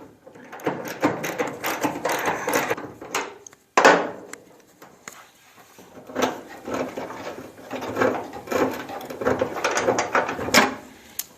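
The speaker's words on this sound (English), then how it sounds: "All I have to do is take off these two bolts, and then the fender should come right out." Bolts come off the inner fender of a 1968-74 GTO A-body car, with close, intermittent ratcheting and metallic turning bursts separated by short pauses and a sharp clunk partway through, without any talking.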